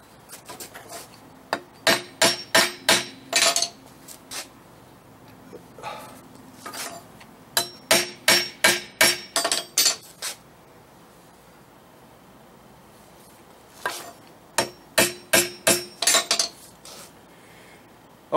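Hammer smacking tack-welded steel pieces of a trailer hitch for a Harley Sportster, sharp metallic clanks in quick bursts of several blows separated by quiet pauses.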